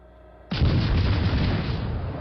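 A salvo of 6-inch naval guns fires on HMS Plymouth in the naval game World of Warships Legends: one sudden heavy boom followed by a sustained rumbling roar, loud and close.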